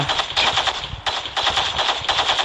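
Rapid, steady automatic gunfire in the video game Gangstar Vegas, loud and continuous, with a brief break before the rattling resumes.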